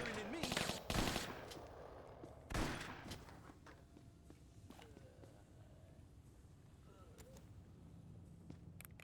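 Enemy gunfire in Tomb Raider 1 Remastered: a few sharp bursts of shots up close early on, then quieter game ambience with light footsteps.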